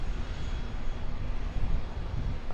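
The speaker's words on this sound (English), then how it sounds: "there is a Jetstar Airbus A320 taxiing out" A Jetstar Airbus A320 taxis out at Auckland Airport, a steady broadband engine rumble heavy in the low end with no breaks, heard from a distance at an outdoor spotting spot.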